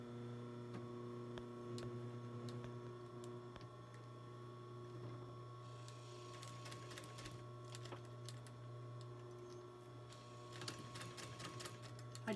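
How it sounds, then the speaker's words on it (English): A sewing machine stitches elastic onto a fabric face mask, its motor humming steadily under a fast, even mechanical ticking of the needle that comes in bursts, close and moderately quiet, with no voices. "I just do 3 quick lines of stitching"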